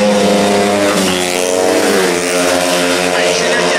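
250 cc grass track motorcycles race past at a May 2013 meeting in Morizes, a loud sustained engine howl rising and falling in pitch with the roar of several machines close by, a commentator talking over it.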